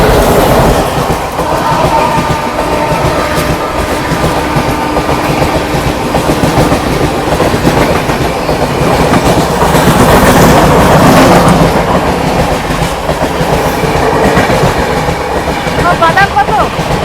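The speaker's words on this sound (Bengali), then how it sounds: "আমাদের ট্রেনটাকে দাঁড় করিয়ে কতগুলো ট্রেন পাস করাচ্ছে" A train rolls past a stopped passenger train, loud and close. The rumble and clickety-clack of its wheels run on continuously, with faint squeals and some chatter in the background.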